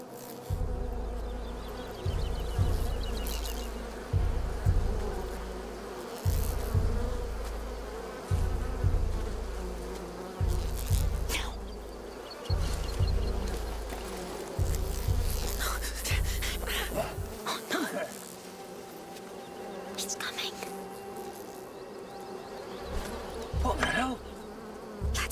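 Steady, droning bee buzz in the video game A Plague Tale: Requiem, running loud and continuous for the whole stretch with a rhythmic low pulsing underneath and occasional game sounds layered on top.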